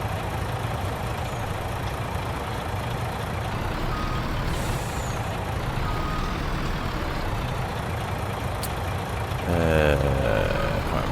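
In Farming Simulator 19, a truck engine drones steadily for about ten seconds, and a short run of reversing beeps comes in near the end.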